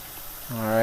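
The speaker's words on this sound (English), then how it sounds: "I'm going to go ahead and fill this up with water" Tap water pours into a container, building up for washing fresh fruit and vegetables with household cleaner. It starts faint and rises into a steady, strengthening rush in the last half.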